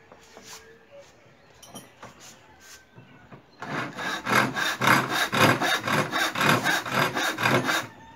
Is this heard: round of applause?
no